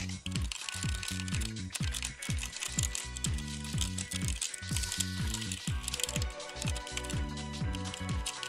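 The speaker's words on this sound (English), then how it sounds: "Take your fork and let's stir." A fork stirs a Kracie Popin Cookin bento mix in a small plastic tray, making a quiet, steady rhythm of light clicks and scrapes that repeat for several seconds.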